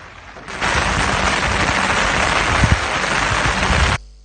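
Heavy monsoon downpour in Jaffna, flooding homes, roars as a dense, steady hiss for several seconds, starting abruptly and cutting off near the end, with a few louder thumps mixed into the wash.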